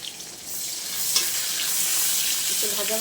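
Chopped onion fries in hot oil with panch phoron, dried chili and bay leaf, giving a loud, continuous close sizzle and a brief scrape of stirring.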